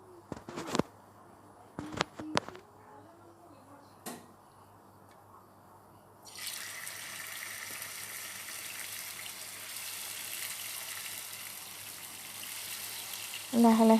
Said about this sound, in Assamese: অলপ অলপকৈ মই মাংসখিনি টাইটকৈ ফ্ৰাই কৰি ল'ম।